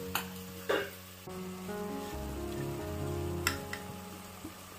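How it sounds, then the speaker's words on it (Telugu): Goat tripe (boti) frying with onions in a pan gives a light, crackly sizzle with a few popping spatters, set under soft background music. "ఉల్లిపాయలు బాగా వేగిన తర్వాత క్లీన్ చేసి పెట్టుకున్న బోటీని కూడా వేసి 2-3 నిమిషాలు వేయించుకోవాలి"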